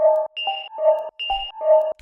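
Detuned synth oscillators with an alien, sine-like tone in an Ableton modern techno patch, playing a repeating sequence of sustained notes with a higher tone recurring between them, clear and upfront with no voices.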